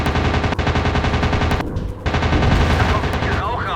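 Rapid machine-gun fire from a plane in the WW2 dogfight game Warplanes: WW2 Dogfight, a dense, loud, continuous rattle with a short break before the burst resumes.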